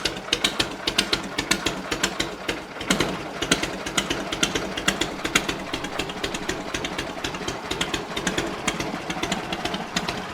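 A Harley-Davidson V-twin idles with a slow, loping, slightly uneven beat of repeated sharp pulses, close and fairly loud throughout, with no voices.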